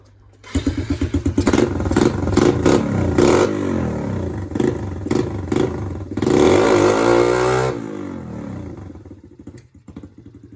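A Sinnis Stealth 125 motorcycle revs hard in a garden while its rear tyre spins against the ground, the engine rising and falling in repeated close, loud bursts before dropping back to idle.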